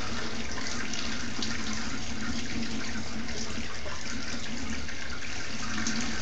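A shower runs steadily at a child's bath time, a continuous close hiss of spraying water with no breaks.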